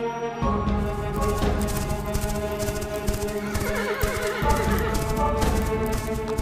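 A horse neighs loudly and repeatedly while hooves clip-clop steadily close by, on a forest path, with no talk.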